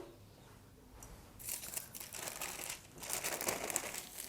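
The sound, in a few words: crispy fried boondi phulkiyan crunching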